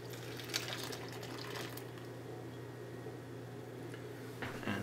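Foamy liquid being poured into a mixing bowl for no-knead pizza dough, a steady faint trickle and splash running continuously under a low background hum.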